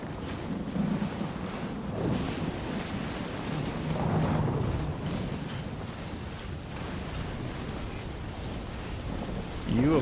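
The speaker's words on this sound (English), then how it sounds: "I'm starting to think that this is not the Supercell and this is just the Uber whiteout storm." Storm ambience from the video game Death Stranding, with a low rumbling roar of wind and distant thunder swelling and easing over several seconds, then surging again near the end.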